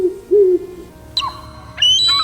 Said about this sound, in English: This is owl.